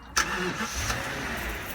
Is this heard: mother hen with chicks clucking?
no